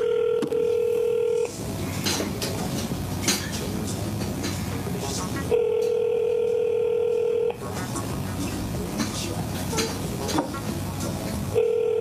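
A steady electronic telephone tone sounds in repeated bursts, switching on and off with pauses between, over background chatter and noise.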